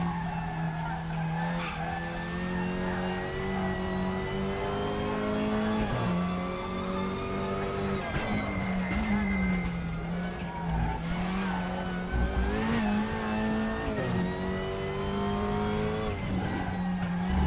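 Race car in the RaceRoom sim racing game pushed hard through a sequence of corners, a steady loud engine drone rising and falling with gear changes and repeated tire skids and squeals as it is loaded up through each bend.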